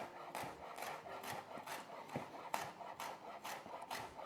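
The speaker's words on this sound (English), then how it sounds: "all I'm going to do is I'm just going to run a knife through it and just make sure it's all finely cut up" A knife working through fresh lemongrass on a cutting board, giving quiet, regular rasping chops repeated about twice a second, close and soft, with no talk.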